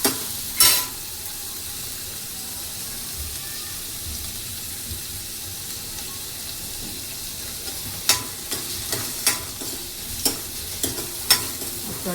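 Curry leaves fry in a pan with a steady soft sizzle, and a spoon scrapes and clinks against the pan in a run of light strokes toward the end.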